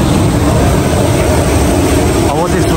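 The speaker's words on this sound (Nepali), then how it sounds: "अब चाहिँ बल्ल प्लेन आइपुग्यो।" A Summit Airlines plane's engine roars steadily and loudly at Manthali airport before a flight to Lukla, a dense, constant drone filling the whole stretch.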